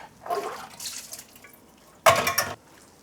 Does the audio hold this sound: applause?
no